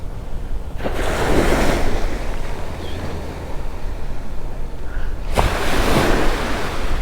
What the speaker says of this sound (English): the waves are waving.